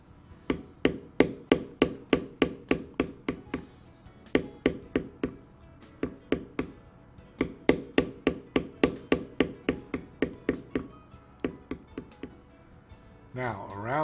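Steady mallet strikes on a leather beveling tool while carving a largemouth bass tail fin, crisp close taps in a fast even rhythm with only brief gaps.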